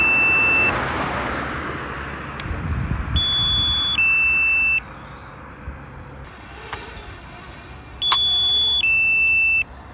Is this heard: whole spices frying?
no